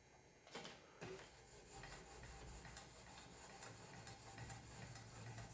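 A Zwilling prep knife drawn across a Wicked Edge 1000 grit stone gives soft, repeated rasping strokes, faint and close, with a couple of sharper scrapes near the start.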